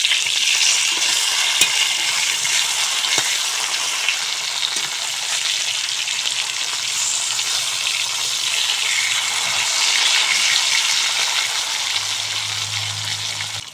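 Turmeric-and-salt coated fish frying in hot oil in a wok, a steady, close sizzle with scraping stirs as the pieces are turned over, continuous throughout without talk.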